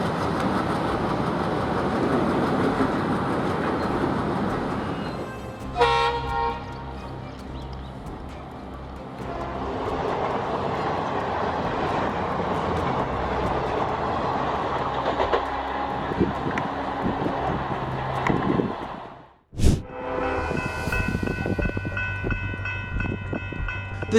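A train rumbles past with rhythmic clatter from its wheels and cars, loud and continuous, followed by a sharp impact and metallic ringing as it meets a deer on the track.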